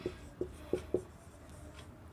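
Chalk or marker taps and scrapes on a classroom board in four short, distinct strokes, fairly close and quiet, with no talk over them.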